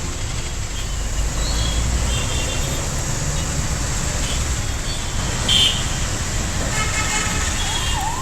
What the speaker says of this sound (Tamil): கனமழை காரணமாக போக்குவரத்து நெரிசல்.